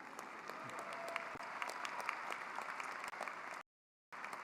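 A commencement audience claps in a dense, even burst of applause, fairly distant and quiet, ending in a brief dropout before resuming.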